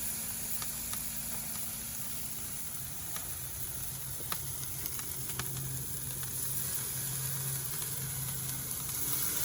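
Balsamic rosemary marinated pork tenderloin laid over direct heat on a Big Green Egg grill sizzles in a continuous close hiss, with faint crackles and clicks scattered through and no voices.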